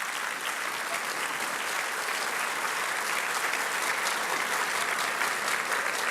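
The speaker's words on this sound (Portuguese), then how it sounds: "o senhor merece o aplauso do Brasil inteiro" Steady, dense applause from an audience honoring minister Ernesto at a Brazilian government event marking 300 days of the Bolsonaro administration, an even wash of clapping that stays loud and unbroken throughout.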